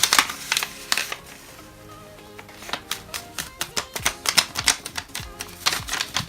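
Paper for a fortune teller is folded and creased near at hand, with dry crinkling and a rapid series of crisp taps and scrapes that grow busier and louder toward the end.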